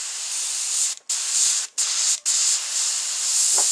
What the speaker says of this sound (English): I'm going to go ahead and spray this with a tooth yellow.